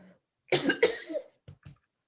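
A close cough burst in two quick hacks, followed by a pair of short softer coughs after a brief pause, in an otherwise quiet room.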